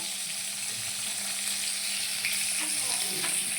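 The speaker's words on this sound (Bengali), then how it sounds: "আর দেখো আমি সবকটা মাছ এবার ভেজে নিচ্ছি" Fish fries in hot oil in a pan, a loud, steady, close sizzle and crackle running without a break, with faint pops and light clinks.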